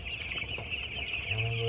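Chickens cluck steadily on a poultry farm beside a jungle, a continuous bed of close fowl calls with no talk over it.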